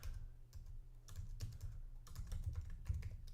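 Computer keys clack in quick, uneven bursts as a short name is typed into a finance app. The taps are close and crisp, with brief pauses between clusters and no voice.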